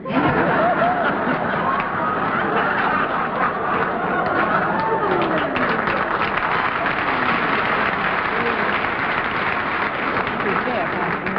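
Studio audience applause on the What's My Line game show: sustained, steady clapping from a large crowd, loud and even for over ten seconds with scattered laughter mixed in.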